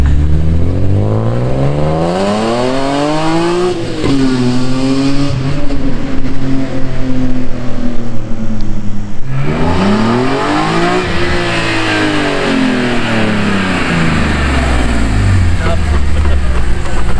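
A BMW E46 M3 with the S54 engine revs repeatedly, the pitch sweeping up and falling back in long, loud, close pulls over a rough idle, with a voice heard faintly at times.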